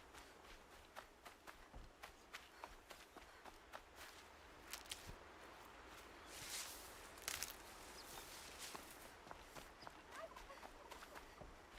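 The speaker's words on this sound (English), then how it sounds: "I hear turkeys." Turkeys gobbling in the Horizon Zero Dawn video game among faint footsteps, with brief bursts of gobbling at low level in the middle of the passage.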